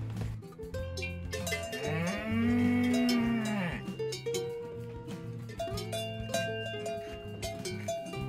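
Cows on an alpine pasture in the Allgäu near Grüntensee give a long, loud moo while cowbells clank irregularly around them, with the bells continuing steadily after the call.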